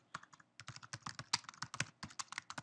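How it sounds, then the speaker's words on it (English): Irregular bursts of keyboard typing, close and fairly quiet, as a field worker enters a short damage description about a fallen tree at a service point into a work-management app. "I type in a description"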